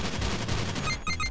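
Rapid free-aim gunfire from the retro video game Retro City Rampage DX, a dense continuous burst of shots with bright electronic tones near the end, loud and steady with no talking.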